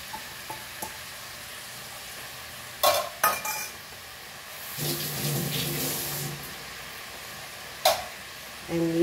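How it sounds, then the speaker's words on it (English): Chicken mince going into a pan and being stir-fried for a dry Goan keema, with sharp spoon-on-pan knocks, a burst of sizzling in the middle and scraping stir sounds, close and moderately loud. "Let's add a keema to this."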